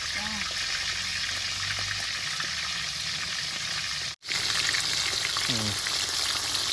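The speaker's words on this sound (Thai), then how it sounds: "ปลาโปงทอดกับปลาเห็ดโคนจ้ะ" Fish sizzles steadily in a frying pan, a dense, continuous crackle that briefly cuts out partway through and then resumes, with a voice faintly audible in the background.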